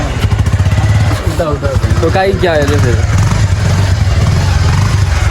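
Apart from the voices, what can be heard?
motorcycle engine starting and running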